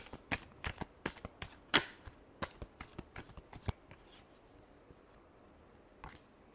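Tarot cards are shuffled by hand in a series of sharp riffling snaps, clustered rapid flicks that fade to quiet with one last faint snap near the end.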